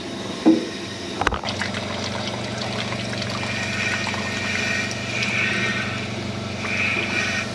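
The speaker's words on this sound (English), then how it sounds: "the petcock has water flowing out of it" Water draining out of an open radiator petcock, a steady trickling flow that runs on after a couple of sharp knocks near the start, with machinery hum underneath.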